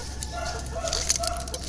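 Backyard chickens cluck and murmur nearby in a short, busy burst, several birds overlapping against a low outdoor background.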